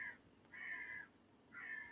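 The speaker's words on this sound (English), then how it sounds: "Do apologise for the background noise of birds" Countryside birds calling outdoors, three drawn-out chirping calls in a slow, evenly spaced rhythm, moderately close but soft, with no talking.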